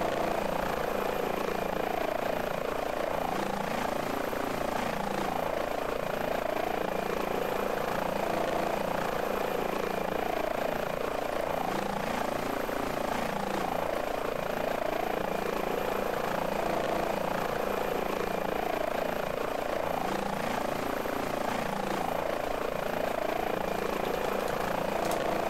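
An air ambulance helicopter in a flight simulator over Scotland: a constant engine drone with the steady chop of rotor blades, loud and unbroken throughout, with no talk over it.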